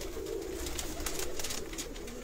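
Several Indian pigeons in a Sialkot loft give low rolling coos amid constant rustling and pecking noises, close by with no voices.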